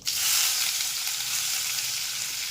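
Chopped onion, spinach, green chili and tomato sautéing in a pan for a wheat-flour breakfast pancake, giving a loud, steady, close sizzle that holds evenly throughout with no talking.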